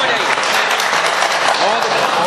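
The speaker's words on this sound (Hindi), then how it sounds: "जोरदार तालियां।" Loud, dense audience applause at a comic mushaira poetry event in India, continuous clapping filling the whole short stretch with no pause.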